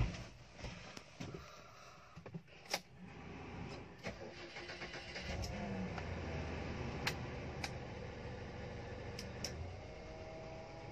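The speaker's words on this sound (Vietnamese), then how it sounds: "Giờ em lên nổ máy anh chị xem thử ha" A car engine cranks and catches, then settles into a steady, smooth idle with a low hum, close by, with a few clicks along the way.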